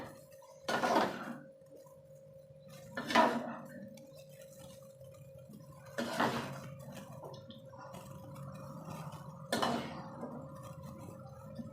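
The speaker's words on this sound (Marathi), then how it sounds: "आता आपण प्लेटमध्ये काढून घेऊया" Cooked shengule being served onto a plate, with four separate clinks of utensil against dish spaced a few seconds apart over a quiet kitchen background, with no talking.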